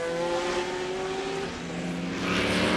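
GT race cars roar past on the Homestead circuit during a 2001 Grand Am endurance race, a loud sustained engine drone with rising and falling pitch as several machines sweep by under a steady track din.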